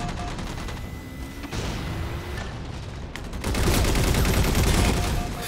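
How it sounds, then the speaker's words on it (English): Turret gunfire in a Halo 4 multiplayer battle on a Crimson Map Pack map: dense, continuous bursts of automatic fire and booms, growing louder and heavier toward the end. "We're having a turret battle right now."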